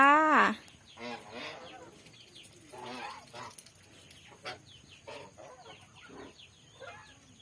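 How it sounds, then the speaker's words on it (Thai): Loud honking calls of geese close by, starting with a sharp burst, then scattered calls and clucks from the flock continuing throughout. "วันนี้นะคะ จะพาทุกคนมาชม ห่านค่ะ ห่านนะคะ"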